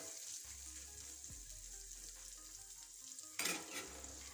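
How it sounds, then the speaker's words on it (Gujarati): Chopped onions sautéing in a pan for an onion sabzi, a steady close sizzle running through with a brief louder burst near the end, no talk. "કાંદાને હવે આપણે ચડવા દેવાના છે"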